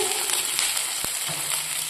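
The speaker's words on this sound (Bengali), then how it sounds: "কড়াইতে সাদা তেল দিয়ে আদা কুচি দেওয়া হচ্ছে" Chopped ginger sizzles in white oil in a wok, a loud, close, bright hiss with a single sharp knock partway through.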